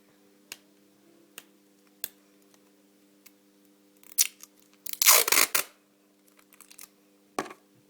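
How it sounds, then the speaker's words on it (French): Adhesive tape is pulled and pressed onto the elastic of a handmade bow: sharp isolated clicks and taps, then a loud crackling rip of tape unrolling close by, followed by a few more small crinkles. "vous allez prendre du scotch et vous allez donc scotcher l'élastique de chaque côté"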